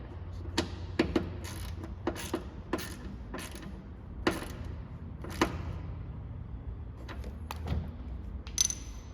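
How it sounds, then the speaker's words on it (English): Quarter-inch ratchet driving a 10mm socket to tighten a bolt on a car, a series of sharp clicking bursts at irregular intervals over faint background hum, close and fairly quiet. "So now, got a 1/4 inch ratchet, 1/4 inch 10mm socket."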